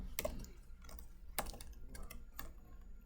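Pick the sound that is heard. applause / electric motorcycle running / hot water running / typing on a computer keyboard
typing on a computer keyboard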